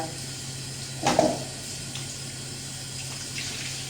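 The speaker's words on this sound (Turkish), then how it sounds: "Dışarıda yağmur başladı." Rain falling outside gives a steady, soft hiss throughout, with one brief, louder splashing burst near the start.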